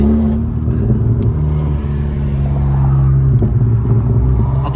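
A 10th gen Honda Civic Si fitted with an HKS blow-off valve drives through canyons, its engine a loud, steady rumble and drone heard up close from inside the car, with no voices.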